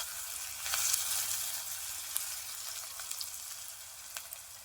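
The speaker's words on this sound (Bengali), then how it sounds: "একটু পেঁয়াজটা ভালোভাবে ভেজে নেব" Onions frying in a pan for a Bengali chicken curry with ol kochu and potato, a steady bright sizzle with faint crackles and occasional stirring scrapes, close and alone with no talk.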